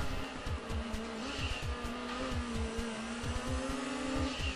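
Engines roar and tires squeal as cars race a rally track in the PS1 racing game Gran Turismo 2, a steady, loud drone with repeated skids and gear shifts throughout.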